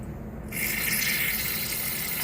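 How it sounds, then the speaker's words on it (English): Carburetor cleaner runs out of a Honda GCV carburetor in a steady trickling stream that starts abruptly after a quiet half second and continues evenly. "See, we got a stream running out of there now."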